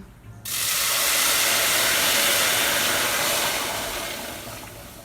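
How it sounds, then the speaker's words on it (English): A big pot of water boiling on a kitchen burner gives a loud, steady hiss that begins abruptly and holds for several seconds, then fades a little toward the end. "I have a thing to boil water here, just to make it faster."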